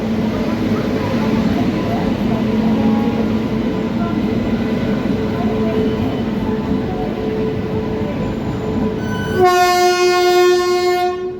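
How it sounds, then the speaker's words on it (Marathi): The Pune–Amravati Express rolls into platform 4 at a station with a steady loud rumble of wheels and carriages, then a long, loud, close horn blast near the end. "आपली Pune Amravati express platform number 4 वर येत आहे"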